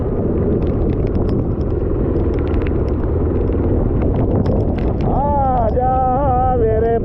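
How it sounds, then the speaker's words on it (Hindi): Strong wind from a storm in Dubai roars constantly against the microphone with a deep rumble, and a voice begins talking over it near the end. "हवाएं बड़ी तेज चल रही हैं"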